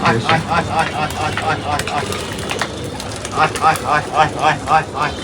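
Pigeons coo in repeated soft rhythmic bursts close by, with brief wing flutters as birds land on a rooftop loft, while someone talks over them.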